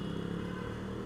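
An old motorcycle engine runs steadily in heavy, jammed road traffic, a continuous close rumble with a faint rattle and no voices.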